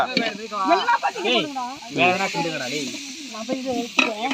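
Food sizzles in a pot on a village cookfire while it is stirred continuously, a steady frying hiss running under loud overlapping talk throughout.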